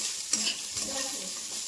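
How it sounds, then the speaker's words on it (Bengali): Beetroot, carrot, potato and beans sizzle steadily in a pan for chire pulao, with a soft scrape of stirring near the start and continuous frying hiss throughout. "রাতে একটু চিড়ের পোলাও করব, ওই জন্য বিট গাজর আলু বিনস সব ভাজছি।"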